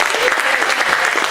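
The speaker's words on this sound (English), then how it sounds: "Everybody put your hands together for Laura and Tanya" An audience at a singing stage-presence session gives a short, steady round of applause, continuous dense clapping with no gaps.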